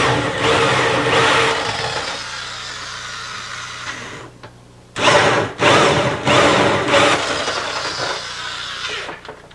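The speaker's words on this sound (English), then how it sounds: "All we're drilling now is the couple of holes for the plumbing." A loud, whining power drill runs in bursts, boring plumbing holes in a kitchen counter, pausing briefly midway before biting in again with steady, grinding revs close by.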